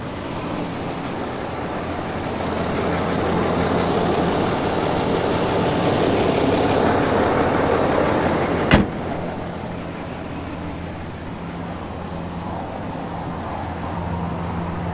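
A 2025 Ram 3500 Laramie Mega Cab 4x4 with a Cummins diesel idles as a steady, low, quiet hum. A brief click lands near the middle, and a softer, even drone continues after it, likely the air conditioning running.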